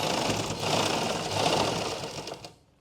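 An electric sewing machine stitches elastic into the waistband of pants or palazzos, running as a steady, rapid whir close by for over two seconds before stopping.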